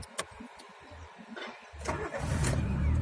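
A car engine cranks and catches after some quiet clicks and handling noises, then settles into a steady, close idle.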